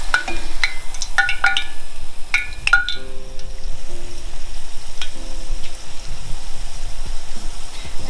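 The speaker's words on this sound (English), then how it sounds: "we're gonna fry it again the second time in a higher heat" Chicken pieces for General Tso chicken deep frying a second time in hotter oil, a steady dense sizzle and crackle throughout with a few sharp pops and clinks near the start, no talking.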